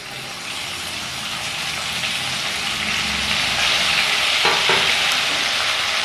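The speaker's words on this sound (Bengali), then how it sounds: "এই আদা টমেটোর কাঁচা গন্ধটা যতক্ষণ না যায় ভালো করে কষিয়ে নেব ফ্লেম লোতে রেখে" Ginger paste and grated tomato sauté in a pan on a low flame, with a steady, close sizzle that swells slightly and a few faint stirring scrapes near the end. No voices.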